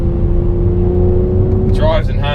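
Steady engine drone of a 2018 Mercedes-AMG C43 Coupe 4Matic heard from inside the cabin while driving, a constant low hum with someone talking over it.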